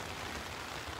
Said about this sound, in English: it was raining considerably harder than it is right now